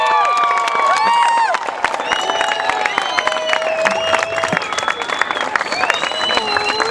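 A crowd at a 2013 sixth-grade promotion ceremony at Arnold School applauds and cheers for the graduating class, with steady dense clapping, shouts and children's voices filling the whole stretch.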